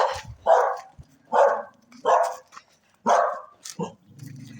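A small dog barks repeatedly in short, sharp bursts close by, about five barks with brief pauses, ending in a soft whimper.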